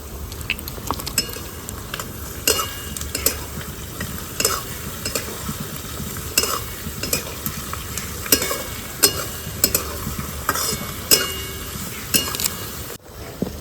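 Paratha dough being mixed by hand in a bowl with salt, a little sugar and white oil, giving steady soft stirring and squishing with occasional light clinks of utensils, close and continuous without talk.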